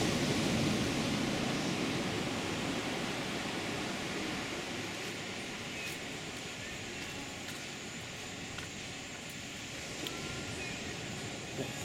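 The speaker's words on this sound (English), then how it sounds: "Here the surf." Ocean surf breaking on the beach at Playa Potrero, Costa Rica, at night: a soft, continuous hiss and wash of waves that stays fairly faint and even throughout, with no voices.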